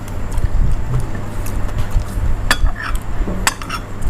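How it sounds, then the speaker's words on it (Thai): Pea eggplants being lightly bruised in a mortar for a Thai shrimp-paste chilli dip: a few clacking knocks and clinks over a low background hum, no talking. "มะเขือพวงป้าติ๋มเขาบุบหน่อยนะคุณบุบบุบหน่อย"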